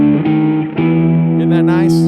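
Electric guitar sounding a diminished chord through effects, with distortion and modulation; a sustained, rich chord with a couple of re-strikes and a wobbling, shimmering tail over about two seconds.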